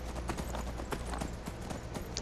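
Galloping horse in Skyrim, its hooves striking in a fast, even rhythm up a mountain, close and continuous with no talk over it.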